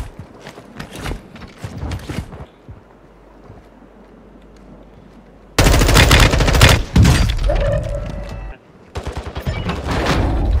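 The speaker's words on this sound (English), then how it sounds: "taking effective fire" Guns fire in Warzone at Fort Resurgence, Al Bagra Fortress: scattered close shots at first, then a loud, sustained burst of rapid fire with wind noise. Another rattling volley comes near the end.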